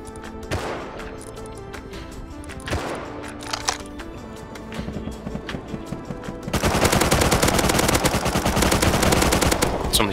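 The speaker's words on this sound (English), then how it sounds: "Somebody's shooting me." Gunfire in the survival game Rust, scattered single shots and short bursts at first, then a long, loud, sustained stream of rapid automatic fire up close for the final few seconds.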